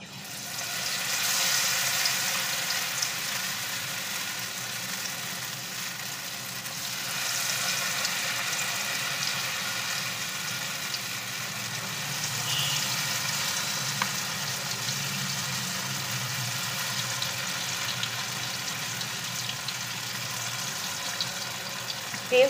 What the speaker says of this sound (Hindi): और इतने पका लेते हैं तेल को। अब बनाते हैं पकोड़े।